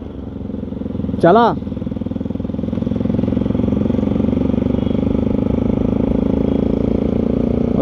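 A Bajaj Pulsar RS200 motorcycle idles with a loud, throbbing exhaust, revving briefly early on, while a person speaks a short word nearby.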